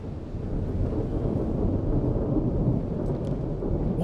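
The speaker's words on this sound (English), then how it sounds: "Why is like constant thunder sound here?" Continuous thunder rumble in the Anno 117 game, a dense low roar with rain-like hiss, steady and unbroken without any distinct claps.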